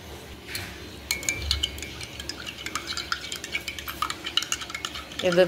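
A spoon stirs a homemade drink in a glass after a little black salt is added, giving a run of quick light clinks and scrapes, fairly close and steady, with no talk over it.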